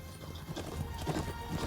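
Horse hooves clip-clopping at a steady walking pace, fairly close, over a low rumbling background.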